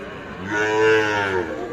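A single long, deep moo from a Sahiwal bull close by at a cattle market, rising and swelling in the middle before trailing off, over steady outdoor background noise.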